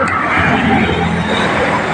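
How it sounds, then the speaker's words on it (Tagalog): A vehicle rolls past on a busy street at a roadside pottery stall, a loud, steady roadway rumble with crowd chatter in the background. "ayun ang sasakyan"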